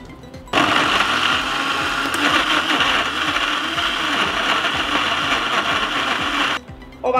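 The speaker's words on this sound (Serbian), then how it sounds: "I ovako očišćen paradajz stavljam u blender." Kitchen blender grinding peeled tomatoes, starting abruptly and running at a loud, steady whir for about six seconds before switching off.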